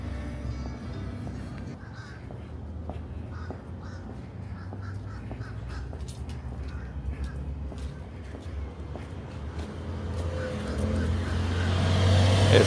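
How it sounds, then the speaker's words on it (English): A Porsche rolls down an alley, its engine hum swelling gradually and growing louder toward the end, while crows caw nearby and scattered street sounds continue throughout. "It's a Porsche."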